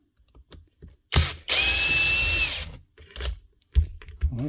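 A cordless screwdriver or drill whirs in short bursts, one sustained spin of about a second, unscrewing screws from the housing of a broken Dewalt D25810 demolition hammer during a teardown, close and loud with small handling clicks between.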